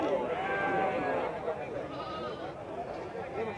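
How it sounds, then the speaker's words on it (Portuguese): Sheep bleat repeatedly at a busy goat and sheep market in Campina Grande, Paraíba, Brazil, their wavering cries overlapping at close to mid range amid a steady din of crowd chatter and people talking nearby. "Um monte de ovelha aqui, pessoal, mas já foi de compra aqui."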